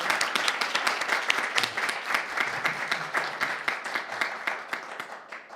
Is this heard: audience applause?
yes